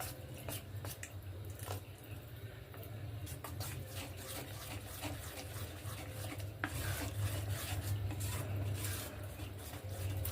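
Gram flour batter for mirchi being mixed by hand with water, giving a steady wet squelching and rubbing sound with soft irregular clicks, fairly close and continuous, with no talking.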